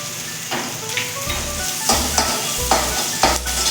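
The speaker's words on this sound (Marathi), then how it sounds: "ही चांगली एक दोन मिनिटभर परतून घ्यायची तेलामध्ये चांगली त्याचा कच्चेपणा बसण्याचा जाईपर्यंत" Ginger garlic paste sautés in hot oil over softened onion for soy rice, with a steady sizzle and repeated scraping stirs of a spoon against the pan at a near, loud level.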